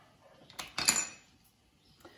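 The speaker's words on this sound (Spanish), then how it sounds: "Yo voy a estar utilizando mi globo manual" A hand whisk beats keto chocolate cupcake batter in a bowl, giving a brief burst of metallic clinks and scraping at close range, then quieter taps.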